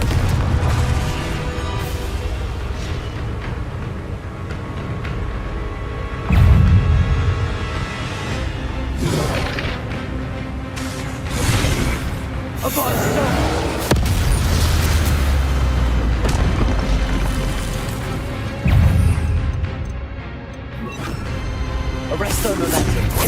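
Bombarda and Confringo spells exploding in the Hogwarts Legacy video game on PC, several loud booming blasts and bursts spread across a busy battle soundscape, with a voice shouting spell names between them.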